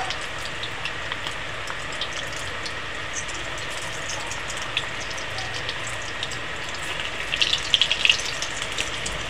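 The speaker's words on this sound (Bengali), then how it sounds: "সাদা তেলেই ভাজবো সাবুর বড়াগুলো" Sago fritters deep-fry in white oil with a soft, continuous bubbling hiss and scattered faint crackles. The frying grows slightly busier near the end, and no one speaks.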